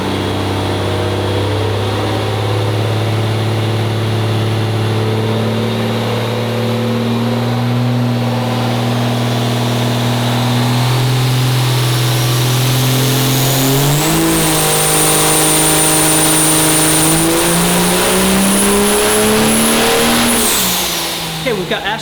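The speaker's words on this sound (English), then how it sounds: "We've got Ashton Branch's truck back on the dyno since fixing the transmission." A 1200hp 5.9L diesel race truck engine runs on a dyno, a loud steady drone that climbs in pitch midway through as it is pushed harder, then holds high before dropping off at the end.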